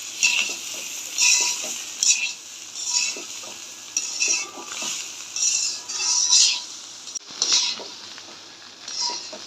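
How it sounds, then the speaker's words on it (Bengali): A spoon stirs ghee through rice and vegetables frying in a pot for vegetable khichuri. The spoon scrapes and clinks in an uneven rhythm over a soft, steady sizzle, up close. "এবার ঘিটা ভালো করে মিশিয়ে নেব"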